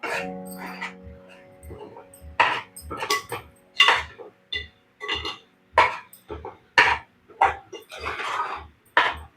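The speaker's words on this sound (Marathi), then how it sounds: "ते व्यवस्थित आपल्याला मिक्स करून घ्यायचे" Rice flour dough being mixed in a pot, heard as a run of irregular knocks and scraping clatter of a utensil against the pot, fairly close, with a brief stretch of voice near the start.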